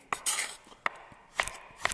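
A knife slices thin rounds of aubergine on a board for a spicy Thai seafood stir-fry, giving four sharp, evenly spaced taps close by, with no talking.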